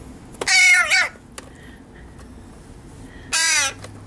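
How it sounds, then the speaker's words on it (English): A small pet bird calls twice, loud and close, giving two harsh, raspy squawks a few seconds apart with a quiet room in between. "Come here, little bird."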